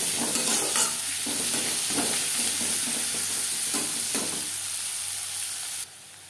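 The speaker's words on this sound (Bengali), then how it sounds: "পেঁয়াজ হালকা করে ভেজে নেব, খুব বেশি লালচে করে ভাজবার প্রয়োজন নেই" Onions frying lightly in a pan for a bottle gourd leaf mash, a steady close sizzle with scraping stirs at intervals, no voices, fading slightly toward the end.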